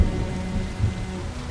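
Steady rain falling outdoors in a period drama scene, a dense even wash of drops with a low rumble underneath, no voices.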